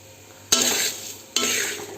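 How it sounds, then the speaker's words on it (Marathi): Coriander seeds dry-roasting in a pan, with two sharp scraping stirs that each set off a rattling, sizzling rush before trailing off. "धने घेताना एकदम साफ करून घेतलेले चाळून वगैरे त्यामुळे आता मी डायरेक्ट टाकलेत खमंग वास सुटेपर्यंत भाजायचेत आपल्याला"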